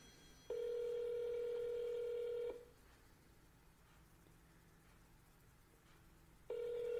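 A phone call placed through a virtual business phone system, with a steady electronic ring tone that sounds for about two seconds, falls silent and starts again, clear and alone over faint background hiss.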